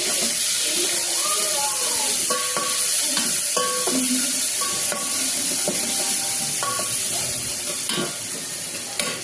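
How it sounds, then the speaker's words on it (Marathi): Whole spices fry in hot oil with a ginger, garlic and coriander paste, a loud steady sizzle with clinking spoon stirs against the pan and a voice talking over it. "आपला खडा मसाला चांगला फ्राय झालेला आहे। अद्रक लसूण कोथिंबीरची पेस्ट टाकूया।"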